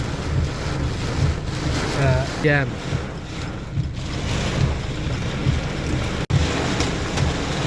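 Heavy rain and storm wind buffet a car stuck in a traffic jam in Hemayetpur, Savar, a steady loud wash of rain and wind noise with a voice speaking briefly over it.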